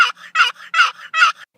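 A small wooden turkey call sounded in the woods imitates a turkey gobble, four loud rattling bursts in an even rhythm, each trailed by a softer echo-like tail, close and clear with no talking.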